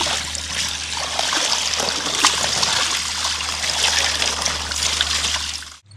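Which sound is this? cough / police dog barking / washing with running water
washing with running water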